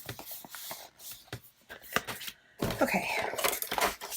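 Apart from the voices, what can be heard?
cutting paper with scissors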